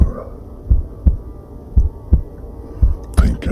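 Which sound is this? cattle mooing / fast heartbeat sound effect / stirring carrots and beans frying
fast heartbeat sound effect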